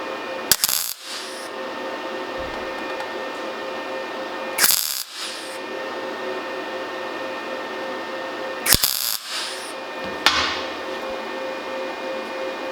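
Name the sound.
MIG welding thin steel auto body panel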